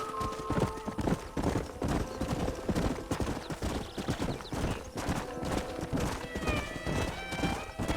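A horse gallops with rhythmic clip-clop hoofbeats in the video game Red Dead Redemption, steady and fairly close, with occasional whinnies and faint background music.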